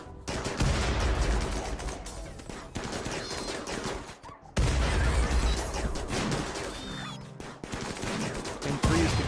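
Gunfire in the video game Rimworld: dense, loud bursts of overlapping shots and rapid fusillades that crackle continuously, with a brief lull around the middle before the firing resumes, no voices.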